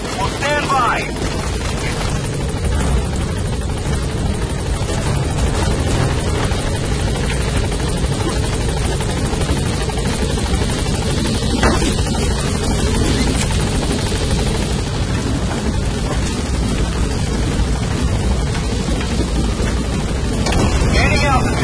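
A helicopter in the Metal Gear Solid V video game arrives at a landing zone, its loud, close rotor roar and engine whine holding steady throughout, with radio-style voice lines over it.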